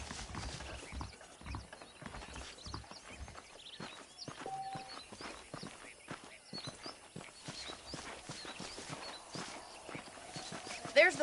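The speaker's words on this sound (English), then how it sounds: "let's see if you can still ride a horse." Horse hooves clip-clop at a steady walking rhythm in the Western game Red Dead Redemption. The hoofbeats are quiet and continuous, mixed with faint ambient game sound.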